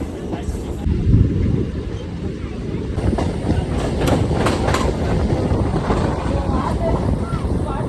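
A train passes through Kalinarayanpur station with a loud, steady rumble and rattle that fills the whole stretch, close by and continuous, with a brief swell near the start.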